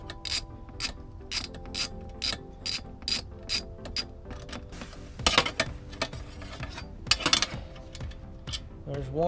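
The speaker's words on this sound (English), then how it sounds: "now we're removing those bolts for the MAF" Ratchet clicking as bolts for the MAF sensor come off a Mk4 Volkswagen during short shifter install prep: quick bursts of sharp metallic pawl clicks, close and fairly loud, broken by pauses, tool clatter and brief speech.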